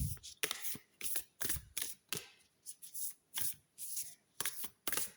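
Oracle cards being shuffled and drawn by hand: a series of crisp, close riffling and flicking bursts in an uneven rhythm, with quiet pauses in between.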